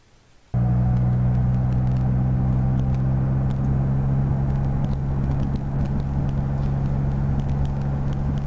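Steady engine drone and road rumble from a Can-Am Spyder F3 three-wheeled motorcycle while riding, kicking in abruptly after a quiet start and holding loud and continuous to the end.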